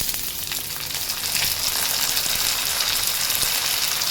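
Small tomato slices fry in a pan with a constant, dense sizzle and crackle, close and fairly loud, with no talking.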